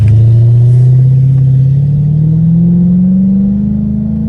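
A Dodge Hellcat Redeye's engine pulls hard under acceleration, a loud, close, continuous rumble rising steadily in pitch as it revs up through a gear, with no talk over it.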